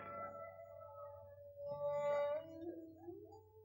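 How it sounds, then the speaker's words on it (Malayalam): A dog lets out a long, wavering howl that rises and then falls, with another canine voice joining briefly, heard alone and fairly faint. "എവിടൊക്കെയോ പട്ടികൾ ഓലിയിടണു"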